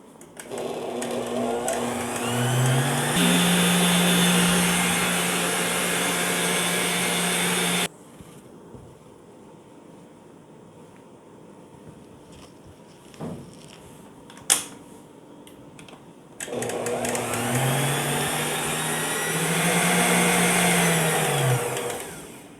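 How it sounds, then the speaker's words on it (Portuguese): A stand mixer beats tiered-cake batter in a loud steady whir, stops for several seconds of near quiet with a couple of faint knocks while the bowl is scraped, then starts up again and runs steadily. "você vai desligar a batedeira, vai raspar lateral e fundo e vai voltar a bater para ele terminar de atingir o ponto"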